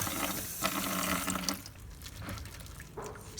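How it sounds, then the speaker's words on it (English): Tap water runs over a white daikon radish at a kitchen sink, a steady splashing flow broken by brief louder spatters as the radish is turned under the stream. "Then, wet the radish under running water"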